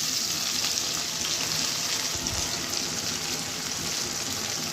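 Ginger-garlic paste and tomatoes fry in a pan with a constant bright sizzle and crackle, steady and close throughout, with no voices.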